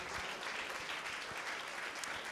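An audience at a political stage event in Italy applauds with dense, steady clapping of moderate loudness, heard alone without talk.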